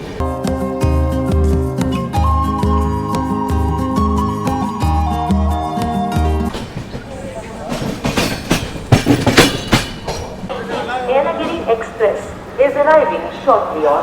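Thiruvananthapuram North - Korba SF Express pulling out of platform 5 at Salem Junction, with a steady horn-like tone early on, then loud, close clattering and rumbling of the rolling train and wheels.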